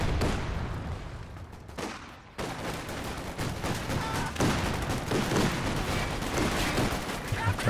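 Machine guns trade sustained bursts in a World War II real-time strategy game match, dense overlapping rattles and booms filling the whole stretch with no pause.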